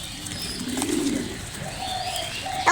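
Pigeons coo in a soft, rolling murmur while feeding, the close bird calls swelling mid-clip and then giving way to a few brighter chirps, with no talk over them.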